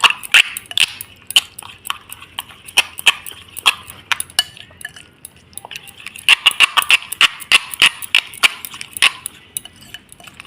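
Chili and turmeric powder being mixed into an egg filling in a bowl, producing a rapid, irregular run of close, sharp clinks and taps that briefly eases midway before picking up again.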